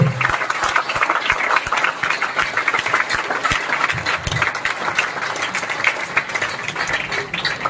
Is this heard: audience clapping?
yes